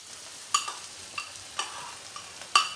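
Quinoa going into a cooking pot in a home kitchen: a handful of separate light clinks and rattling taps spaced about half a second apart, close and soft against a quiet background.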